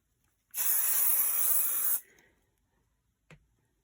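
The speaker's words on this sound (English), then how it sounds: "you're just going to need to spray a piece of batting with a little bit of sticky spray" A single sustained burst of adhesive aerosol spray onto quilt batting, a loud steady hiss lasting about a second and a half, followed by a soft tap.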